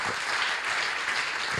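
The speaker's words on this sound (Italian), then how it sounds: "Qui grande applauso ancora," Brief burst of audience applause at a conference on climate change, dense steady clapping filling the whole moment with no voices over it.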